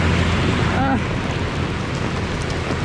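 A thick wash of heavy rain roars continuously while running outdoors, loud and close, with a faint brief tone near the start.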